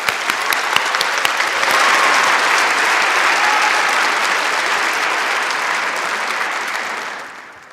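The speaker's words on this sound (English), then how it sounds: "Let's applaud for the healthcare leadership graduates." A ceremony audience applauds healthcare leadership graduates at a university recognition event, a dense, sustained wash of clapping that swells, holds for several seconds and then fades toward the end.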